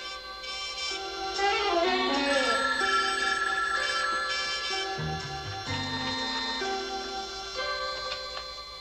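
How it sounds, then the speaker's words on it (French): A telephone rings with a bright, repeating bell tone, fairly quiet and steady across several seconds, with faint background sounds and no speech over it. "Quand le téléphone sonnera, réponds."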